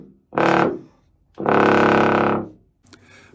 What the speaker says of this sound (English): It reminds me a little bit of the cimbasso, which is a not very well-known Italian alternative to the tuba,